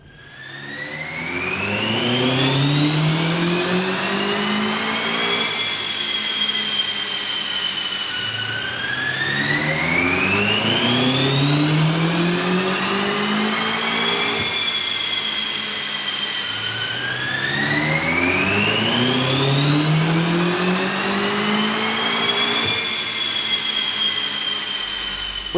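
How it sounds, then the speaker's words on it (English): A BMW runs hard on a chassis dynamometer, its engine note climbing steadily in pitch through three long, loud sweeps, each ending in a sharp drop before the next pull, with a whining, turbine-like tone and no voices. "We've run the BMW up on the dyno."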